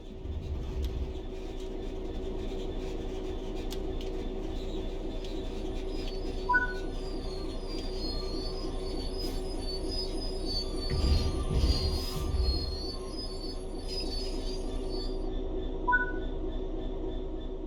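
Train braking in the Train Sim World 3 video game, a low rolling rumble of wheels on rails with a couple of brief high metallic wheel squeals over a steady hum, moderately quiet and with no voices.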